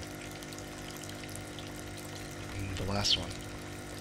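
In the video game Kentucky Route Zero, a hand reaches into a water tank and makes a short slosh and splash near the end, under a quiet ambient hum and a brief spoken line.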